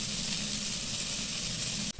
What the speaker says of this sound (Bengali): ক্যাপসিকাম টমেটোটা ভালো করে আমি একসাথে হালকা একটু ভাজা ভাজা করে নেব